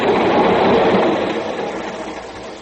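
Steam-era passenger train rolling along the rails as a radio-drama sound effect, a steady loud rumble with rhythmic clatter that slowly fades, no voices over it.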